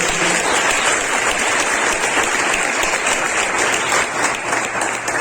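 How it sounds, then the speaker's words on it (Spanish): A church congregation applauds loudly and steadily throughout, a dense wash of clapping hands with no pauses. "le daría un fuerte aplauso."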